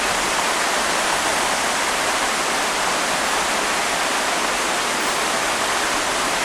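Cold mountain stream water on a winter trail rushes continuously in a dense, loud, even hiss, like a small waterfall close by, with no voices over it.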